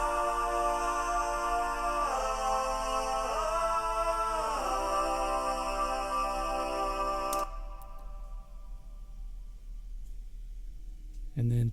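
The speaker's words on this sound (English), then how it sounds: "a big background vocal section," Large layered background vocal section of a How Great Thou Art arrangement, sustained choir-like chords with harmonic shifts, loud for several seconds before dropping away to near silence.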